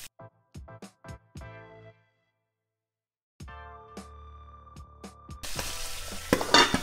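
Milkfish frying in a pan with a little cooking oil: a few clinks and ringing tones give way to a loud, steady sizzle over the last seconds.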